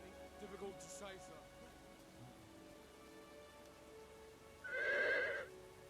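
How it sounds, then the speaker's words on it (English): Steady rain falls over an army battlefield in the Total War: Attila video game, a soft continuous hiss throughout, with a horse's whinny rising loudly near the end. "this is the first time we've had an army fighting in the rain"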